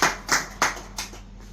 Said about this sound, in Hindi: आपसे गुजारिश है तालियों के जरिए से आप भी इनका स्वागत करें।